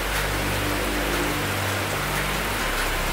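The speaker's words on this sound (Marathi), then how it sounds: "पावसाची मजा घेता येते." Steady rain pours down in a village, a dense, even hiss of drops on surfaces with a low rumble beneath and no voices.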